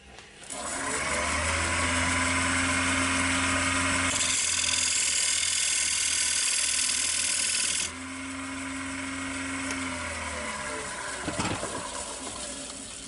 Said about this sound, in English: So I'm just going to put a mark with this little diamond pointed carbide tip.